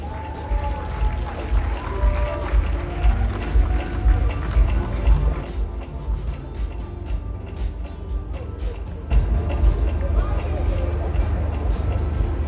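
A crowd claps and cheers continuously, with a voice carrying over the noise.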